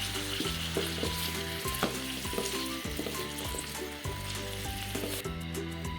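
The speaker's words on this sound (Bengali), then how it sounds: "তেল গরম হয়ে গেছে, এখন টমেটো ঢেলে দেবো।" Tomatoes fry in hot mustard oil with a loud, continuous crackling sizzle, heard alone and close, with a steady hum running underneath.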